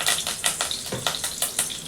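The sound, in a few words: curry leaves sizzling in hot oil in a kadai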